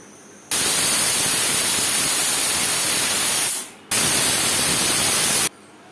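Pressure cooker whistling loudly and steadily while mutton curry cooks with gravy, a continuous hissing blast that cuts out briefly, then resumes before stopping, with no voices.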